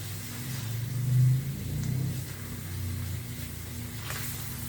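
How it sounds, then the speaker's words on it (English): A motorcycle rides past somewhere outside a home kitchen, a low engine rumble that swells and fades at a distance, with steady background hum and no talking. "Oh, someone's riding their motorcycle today."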